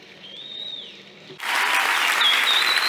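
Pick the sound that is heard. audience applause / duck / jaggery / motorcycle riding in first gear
audience applause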